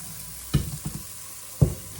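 Chickpeas dropped into a hot pan for a vegan Galician chickpea stew, making two short splashy bursts of sizzle and a soft clatter between them against quiet background frying.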